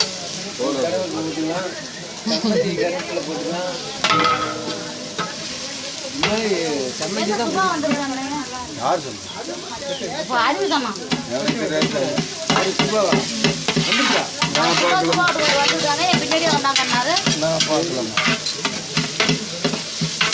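Onions and tomatoes sauté in oil with cinnamon, clove powder and ginger-garlic paste for mutton chukka, a loud, busy sizzle with constant stirring and scraping while voices talk over it throughout.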